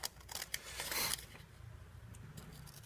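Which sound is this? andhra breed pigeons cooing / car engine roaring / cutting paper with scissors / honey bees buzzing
cutting paper with scissors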